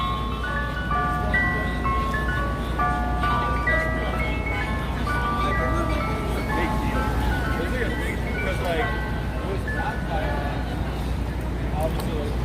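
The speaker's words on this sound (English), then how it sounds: "There you go, ice cream truck." An ice cream truck on a Manhattan street near Koreatown's 32nd Street in the evening plays its steady, repeating tinkling jingle over constant traffic rumble and crowd murmur.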